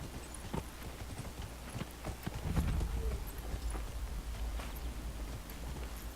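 Horse hooves clip-clop at a steady walking rhythm in the video game Dragon Age Inquisition, close and fairly prominent over a low background hum, with no talking.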